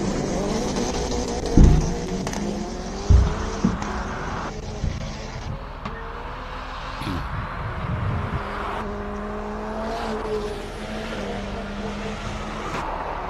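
A race car climbs the Simola Hillclimb during the 2025 King of the Hill finals, its engine note rising and falling through gear changes at moderate distance, with sharp pops and a few bangs along the way and no talking.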